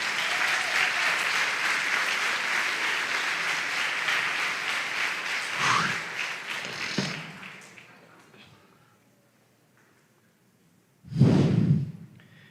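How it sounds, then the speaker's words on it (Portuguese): A church congregation applauds during a homily with a full, steady roar of clapping that thins and fades out after several seconds, followed by a pause and then a short, heavy thump and rustle. "aplauda ao Senhor"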